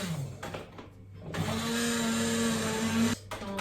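A blender purées a Ratatouille-style vegetable soup in a home kitchen. The motor whirs steadily and loudly, with a brief dip near the start and another near the end, and no voices.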